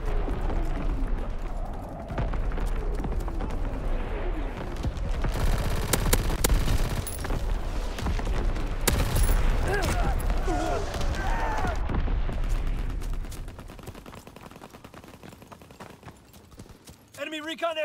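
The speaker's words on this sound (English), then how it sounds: "Firing primary battery." Naval primary battery artillery booms in the World War II shooter Call of Duty: WWII, heavy blasts over a dense battle din with scattered sharp impacts, under a voice speaking.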